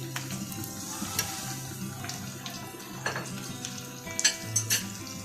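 Tomatoes and green chilies hit a pan of frying garlic-ginger paste, producing a moderate sizzle with clattering stirs and a few brief pan knocks, close and without speech.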